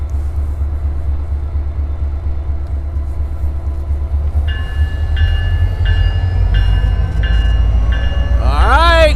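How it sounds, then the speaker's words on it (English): A Norfolk Southern switcher locomotive working a rail yard on a cold dark night, a steady low diesel rumble with a repeated tonal horn-like signal pulsing from the middle onward, then a rising squeal near the end. "There's our switcher locomotive."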